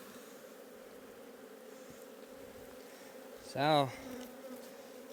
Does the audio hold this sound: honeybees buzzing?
yes